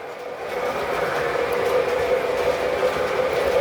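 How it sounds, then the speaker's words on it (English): A passenger train runs on the Withlacoochee River Railroad with a steady, close, continuous rolling rumble and no breaks. The train has a low-hanging coupler hose and a tendency to derail. "Thought I'd run a passenger train today."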